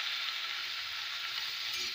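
Onion frying in a pan for a snake gourd (chichinga) curry, just before tomato goes in: a steady, dense sizzle with a faint stir, close and continuous, with no talk.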